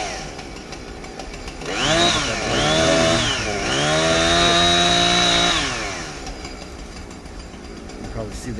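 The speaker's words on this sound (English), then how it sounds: "Chainsaw caught in that greenbrier or" A chainsaw revs up and cuts through greenbrier and small trees during cleanup after an ice storm, the engine rising and holding a steady high whine for several seconds before dropping back to idle, loud and close.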